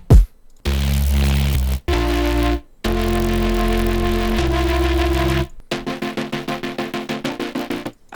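A synthesizer chord patch from the Vital sound bank plays in sustained blocks of rich stacked tones with brief gaps, then shifts into a fast, rhythmically gated pulsing pattern, with no talking.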